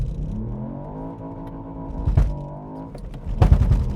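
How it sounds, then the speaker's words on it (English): Ford Fiesta ST, a 2022 hot hatch, launching at full throttle with the front tyres spinning and axle tramp: a loud, rising engine roar with harsh, juddering bursts near the end, no talking. "floor the throttle,"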